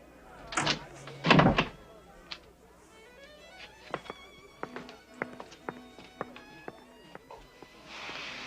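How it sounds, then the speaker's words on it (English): A door closes with two heavy thuds near the start, followed by lighter knocks and clatter while a voice speaks quietly. "Close the door on your way out."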